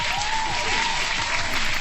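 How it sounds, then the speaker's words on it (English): A steady wash of crowd hand-clapping applause, loud and even throughout, with a faint voice talking underneath. "I'm going to go ahead and hand clap it."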